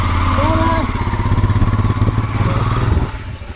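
A motorbike engine runs steadily at close range, its low throb churning loudly throughout before a faint step-down near the end, with a voice speaking briefly over it.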